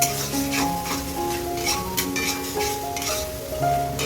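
A spoon stirring masala as it fries in oil for a Bengali mutton curry, steady scraping and soft sizzle close up, with faint tonal background music throughout.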